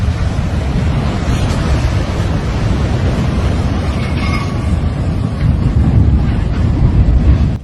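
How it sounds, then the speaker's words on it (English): A mudslide debris flow races toward a town with a loud, continuous roaring rumble mixed with heavy wind buffeting, sustained and powerful throughout. "As a mountain of mud literally collapses and races toward the town, the speed and power of this debris flow are staggering."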